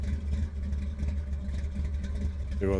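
Simulated V8 car engine in the Car Dealer Simulator video game, a steady low rumble idling and revving throughout, loud and close, with a brief rising rev at the end.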